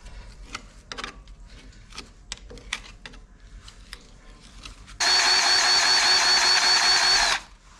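Tractor diesel engine fitted for a hedge trimmer cranks and fires after some clunks and taps, roaring loudly for a couple of seconds before cutting off.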